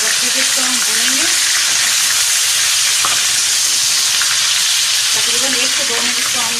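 Chicken with ginger-garlic paste fries in ghee, a continuous close sizzle with scraping stirring sounds and brief dips in intensity as the pan is worked.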